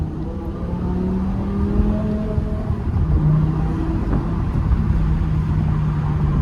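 A BMW E60 M5 drives through a tunnel with the windows open, its engine droning steadily and close with low harmonic tones that shift slightly as it pulls, a continuous sustained roar.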